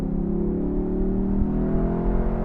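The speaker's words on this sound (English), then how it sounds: "that tone from that exhaust every time, it's like that muscle car kind of noise" A 2021 Lexus LC 500 Convertible's V8 exhaust holds a loud, steady, throaty rev with a muscle-car tone, sustained and close throughout with no talk over it.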